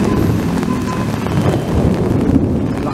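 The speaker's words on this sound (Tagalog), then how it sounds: "Ang kulog" Heavy rain roars steadily and close during a flash flood on a street with submerged cars, with low thunder rumbling beneath the downpour throughout.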